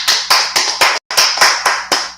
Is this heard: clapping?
yes